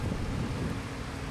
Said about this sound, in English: So it is pretty windy,